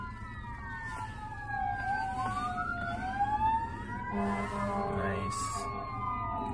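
Springfield fire department engines responding to a fire pass with wailing, sweeping sirens that rise and fall over steady road noise, several tones overlapping as the vehicles go by while people talk nearby.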